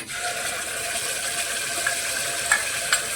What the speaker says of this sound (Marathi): तेल गरम झालं आहे त्याच्यात हे वाटण टाकून घेऊ